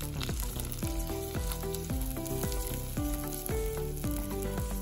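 Rice poured into hot cooking oil in a pan sizzles in a steady, loud hiss that runs the whole time beneath background music with a plucked melody.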